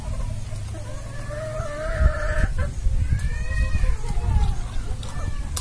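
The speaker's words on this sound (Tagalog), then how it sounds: "Makulit yung manok eh." Chickens clucking and calling nearby in an outdoor setting, with rustling and background noise throughout.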